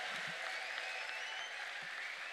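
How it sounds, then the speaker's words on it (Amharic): A church congregation applauds in a faint, distant, even wash of clapping, with a thin high sustained tone that may be ululation running over it. "ከባድ ጭብጨባ ከባድ እልልታ"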